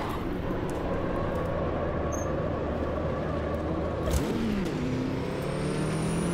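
Car engine in the AMS2 racing game, a Group C prototype, droning steadily at high revs and then dropping pitch abruptly as a wrong upshift is made, the tone sliding lower and settling.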